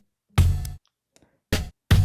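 Three punchy low drum hits, a kick drum sample from a drum break played alone in Reason, with short silent gaps between each thump.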